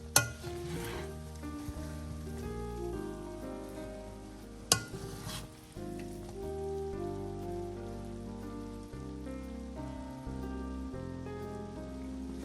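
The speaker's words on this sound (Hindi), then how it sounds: "तो हल्के हाथों से नीचे से ऊपर कर लें, नीचे वाले चावल ऊपर ले आए," Cooked chicken sweet rice being gently mixed in a pot, turned from bottom to top, giving soft close scraping and stirring rustles with a couple of sharp clinks of a spoon against the pot, with no talk.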